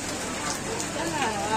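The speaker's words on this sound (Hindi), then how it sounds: "बारिश आ रहा है" Rain falls in a steady, dense hiss on the way to a Sunday church visit, filling the background while people talk over it.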